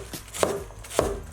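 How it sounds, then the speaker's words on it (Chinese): A knife cuts peeled Chinese yam into thin slices on a cutting board, giving two distinct, close chopping thuds about half a second apart with no voices. "再切成小薄片儿"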